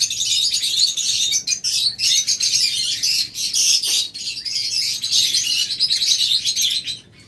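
A flock of big white lovebirds keeps up dense, shrill chirping and squawking in rapid bursts, close and loud with no voices.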